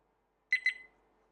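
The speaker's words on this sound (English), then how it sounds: "as soon as the camera stops recording, it starts beeping" A VIOFO A129 dash camera gives two quick, clear high beeps as its recording stops, the second trailing off briefly in a quiet room.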